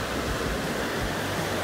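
Ocean surf on a Hawaiian beach where sea turtles come ashore, a dense, continuous wash of breaking waves filling the whole short stretch with no speech.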